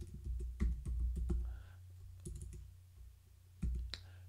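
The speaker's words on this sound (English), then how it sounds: "let's go ahead and we can just start typing here" Fast clusters of keystrokes on a computer keyboard while entering a lower-third title, bursts of clicky taps with a short pause, then a few more near keypresses over a steady low hum.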